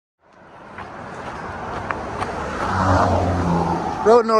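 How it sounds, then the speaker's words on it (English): A car approaches on a road near the Appalachian Trail, its tire and engine noise swelling gradually from far to near. A brief voice cuts in at the very end. "Road noise"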